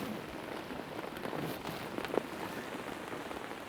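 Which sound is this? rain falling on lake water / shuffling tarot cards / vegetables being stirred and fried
rain falling on lake water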